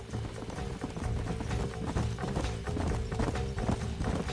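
Horse hooves gallop in a steady, rapid clip-clop rhythm in Red Dead Redemption, several animals running together, loud and close, with a faint whinny and no talk.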